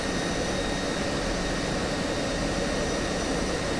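F-16C Viper jet engine in the DCS flight simulator, idling steadily while lined up on the runway: a continuous, loud broadband roar with a faint high whine, unchanging throughout and with no talk over it.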